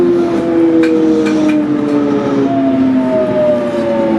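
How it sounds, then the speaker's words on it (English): Jubilee line London Underground train motors whine loudly and steadily, tones gliding in pitch as the train runs between stations, with continuous rumbling carriage noise underneath. "Who likes the motors of these trains?"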